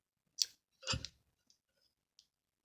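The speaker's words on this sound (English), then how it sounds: "I'm going to cut my yarn" Scissors snip through crochet yarn in a quiet room, giving one short crisp cut and then a slightly longer cut, followed by a few faint small clicks.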